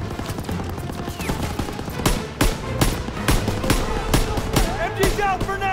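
Sustained machine gun fire in the Call of Duty: WWII battle, loud bursts and sharp shots rattling continuously with overlapping combat noise, shouted voices mixed into the chaos.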